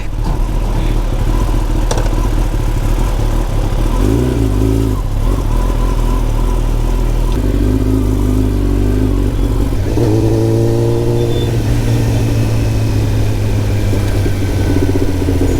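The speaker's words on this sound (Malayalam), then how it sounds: "ആഫ്റ്റർ മാർക്കറ്റ് എക്സോസ്റ്റ് കൂടെ ഉള്ള സൗണ്ട് നല്ല രസമുണ്ട്" A Kawasaki Ninja ZX10R with an aftermarket exhaust, loud and close, burbles at idle, then revs up in several rising pulls, the engine note climbing sharply before settling back.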